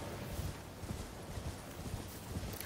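In the video game Elden Ring, a horse's hooves clip-clop in a steady trotting rhythm, faint and soft under a broad background wash, with no talking.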